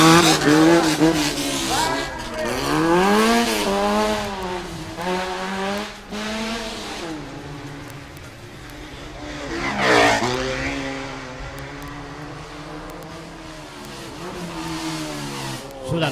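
A race car climbs at the Eliyakanda hill climb, its engine revving up and down through repeated gear changes, rising and falling in pitch as it passes close by, with a brief tire squeal.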